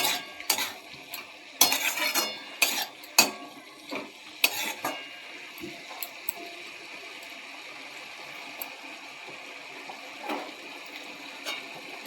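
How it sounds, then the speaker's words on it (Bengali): Bathua greens stirred in a cooking pan, with a cluster of sharp scraping clinks and knocks of a utensil against metal early on, then a softer, steady stirring rustle with only occasional taps. "নেড়ে নেব।"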